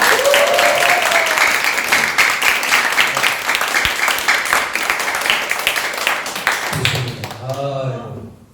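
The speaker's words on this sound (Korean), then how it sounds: "저희 김기복 스폰서님 나오실 때 큰 박수 부탁드립니다" Loud applause fills a seminar hall as sponsor Kim Gi-bok walks on stage, dense clapping with occasional voices, before it cuts off and a voice speaks alone at the end.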